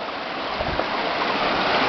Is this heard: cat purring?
no